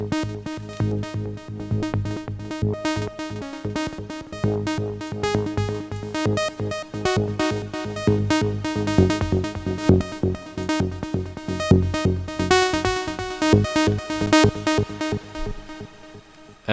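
Dense, heavily processed Moog Subsequent synth texture in a psytrance style pulsing in a steady rhythm, loud and continuous with no voices, a sustained drone under choppy gated stabs.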